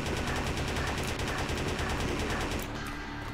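Gunfire from an itch.io indie shooter comes as rapid, continuous automatic shots at a loud, steady level, then thins out and stops just before the end.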